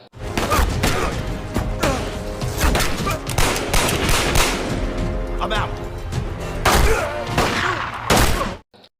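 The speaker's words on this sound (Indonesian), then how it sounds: "Michael dan Taipo bertubi-tubi menembaki Draco namun tidak dapat ditumbangkan juga." Rapid bursts of gunfire crack repeatedly over a dense, rumbling action film soundtrack, with occasional heavier thuds and a voice buried in the mix.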